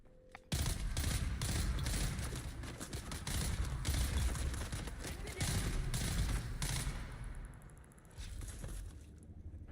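Rapid, loud pistol fire from a video game, shots crowding together in dense bursts for most of the stretch before easing off near the end, with no talk over it.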